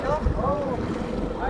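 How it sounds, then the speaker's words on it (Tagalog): A small outrigger bangka riding through big open-sea waves off Ilocos Norte, with strong wind buffeting the microphone, rushing water and a low engine rumble blending into a constant loud roar. "kaya ganito na ang alon. Pero grabe lalaki, napasabak agad yung bangka"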